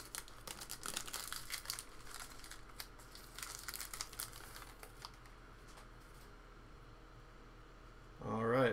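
Plastic wrapper of a 2017 Panini Impeccable Football trading card pack being peeled open, close crinkling and tearing in irregular bursts that thin out, then a louder rustle at the end.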